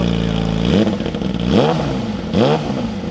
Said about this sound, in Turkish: şöyle bir son bir kez motorun şu anki sesini dinleyelim